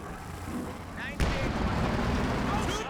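An artillery barrage rumbles in Company of Heroes 2 with a sharp shell impact cracking out midway over a steady low battlefield roar, with someone talking throughout.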